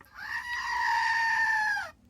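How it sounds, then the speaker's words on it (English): A single drawn-out goat bleat, close and clear, holding a wavering tone for about two seconds before cutting off into quiet. "let me let the old goat say hello to you"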